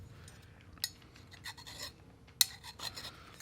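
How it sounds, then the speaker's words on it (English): A hand file rasps along the outside of a stator from a K.O. Lee 2060 spin fixture, giving soft, faint scraping strokes with a couple of sharp metallic ticks. "Now all we need to do is clean up the outside with a file."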